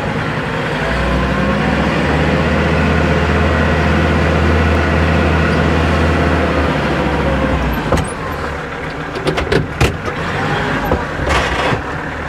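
A tractor engine drives at a construction site where a truss roof is being lifted by crane, making a loud continuous low rumble and drone for most of the clip, followed by clanks and rattles near the end.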